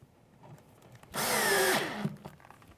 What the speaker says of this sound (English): I've got this pre-drilled and I'm just putting the last couple of screws in.